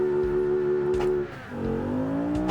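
Bugatti Bolide fitted with a flat-8 engine in a racing video game, revving hard as it accelerates, with a brief dip at a gear change before the engine note climbs again, loud and continuous.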